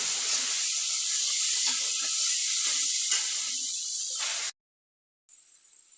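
Onions, tomato and ginger-garlic paste sizzle in a pan with a steady bright hiss that cuts out briefly, then resumes; soft faint clinks sit underneath.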